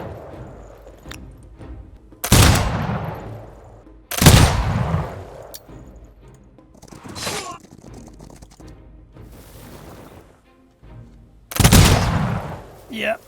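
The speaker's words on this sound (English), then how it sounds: "Just point our guns down and shoot." Gunfire from units in the strategy game Humankind during an Industrial Era battle: several loud, sharp volleys burst out at irregular intervals, each decaying into quieter rumbling between shots.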